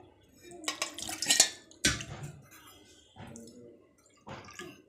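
A little more water splashes into a mixer jar during spinach papad preparation, brief pouring bursts with clinking of the metal jar and drips, close and moderately loud.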